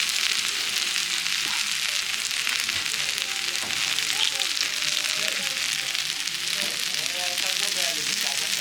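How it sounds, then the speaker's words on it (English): Steady, loud sizzling of food frying in a pan, a dense crackling hiss that runs throughout with faint stirring underneath. "Listen to the sizzle."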